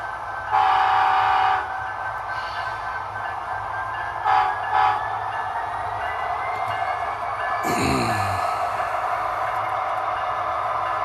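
A freight train rolls past with a steady rumble and clatter of railcars, punctuated by several loud horn blasts, two sustained and a short pair, then a low dropping tone near the end, no voices.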